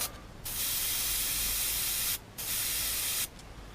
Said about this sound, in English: I've got my airbrush here all set up